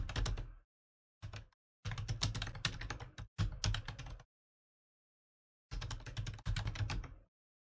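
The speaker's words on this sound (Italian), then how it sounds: "digito accedi e vado a scrivere il nome dell'account in questione" Rapid clattering keystrokes on a computer keyboard come in several bursts separated by pauses while an account name and password are entered. The typing is close and crisp, with no voice over it.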